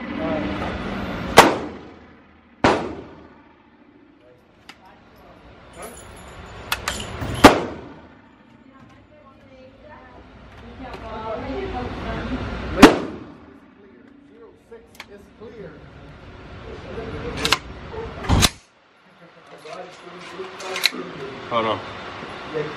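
Heavy firearms fire at an outdoor shooting range, with loud, sharp single reports spaced several seconds apart, each followed by a short ring, while people talk quietly in between.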